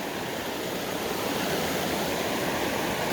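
A Southern Appalachian mountain brook trout stream rushes steadily, a loud, broad and unbroken wash of flowing water heard close by with no voices over it.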